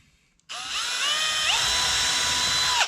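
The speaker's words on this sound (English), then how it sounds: "you pretty much got to pre-drill the hole with these brass screws" A power drill bores a pilot hole for brass screws while a woodstove is being installed, starting abruptly and whining steadily at high pitch, with the motor tone rising and dipping under load, loud and close.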